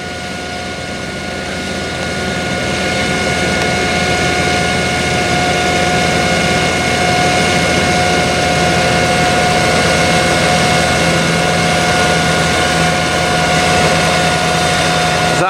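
A farm tractor pulls a Kverneland plough past, its engine a steady, droning low rumble with a constant tonal hum that grows slightly louder as it approaches and stays loud throughout.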